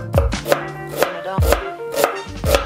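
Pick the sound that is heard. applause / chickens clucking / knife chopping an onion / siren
knife chopping an onion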